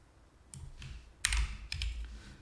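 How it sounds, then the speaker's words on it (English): Typing on a computer keyboard during a live futures order-flow trading session, heard as close, loose bursts of clicky keystrokes, a short cluster then a louder run with a few separate taps, and no talking. "when you're typing live, it can be painful"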